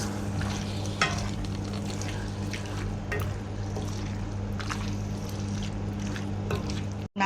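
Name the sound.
stirring chicken salpicao in a pan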